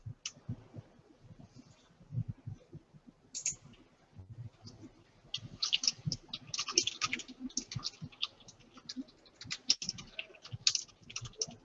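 Typing on a computer keyboard, a steady run of quick close clicks and key taps that grows busier midway, heard alone without talking.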